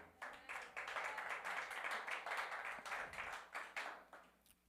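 A church congregation applauding, heard as faint, steady clapping from many hands with uneven pulses, continuing for several seconds at low volume.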